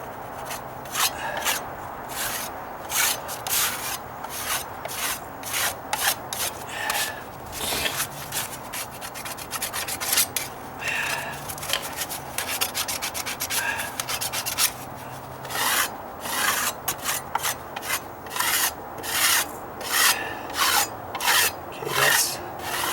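Dry rot being scraped off a wooden deck stair, with rasping strokes that repeat steadily for a long stretch, a few brief pauses between runs, close and fairly loud.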